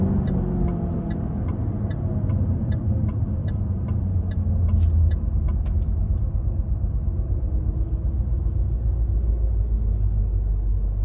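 Cabin of a 2024 Jaguar F-Type P450 R-Dynamic with its supercharged V8 in sport mode: a deep, steady engine rumble and road noise under a run of regular ticking clicks that stop partway through, with no talking.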